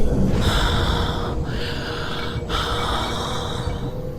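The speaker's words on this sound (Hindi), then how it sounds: "तभी उसे भयानक सांसों की आवाज आने लगी।" Three long, heavy, hissing breaths drawn in close and loud, eerie and strained, over a low rumbling background.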